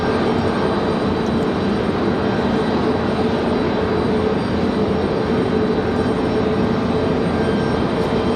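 Delta airliner descending to land at Raleigh-Durham airport, a steady broadband engine roar that stays loud and unbroken throughout, with no voices.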